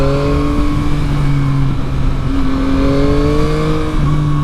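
A 2021 Yamaha MT-09 SP motorcycle accelerates through the gears, its loud engine note climbing in pitch, dropping at each shift and climbing again, heard up close from the rider's position.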